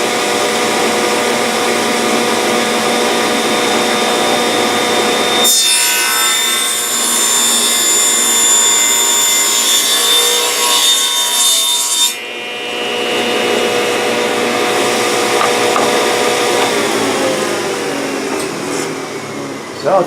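A saw cuts a kerf in a wooden lid with steady, loud, close rasping strokes that continue for most of the clip with no talking, pausing briefly partway through.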